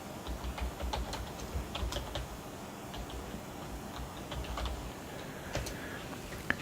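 Fingers tap steadily on a computer keyboard, a quiet run of rapid clicky keystrokes with brief pauses, close and alone.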